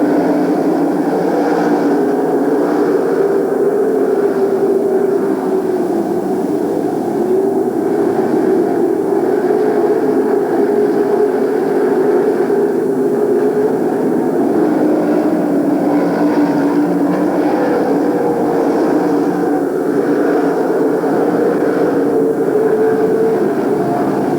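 Open-wheel race cars roar around a dirt track in a dense, continuous engine drone from the pack, steady and loud throughout, with no voices over it.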